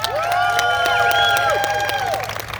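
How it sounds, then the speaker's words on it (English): An audience at a California Legislature event honoring people affected by gun violence breaks into applause and cheering, a dense, loud burst of clapping mixed with crowd voices and whistles that eases off near the end. "Give yourselves a round of applause"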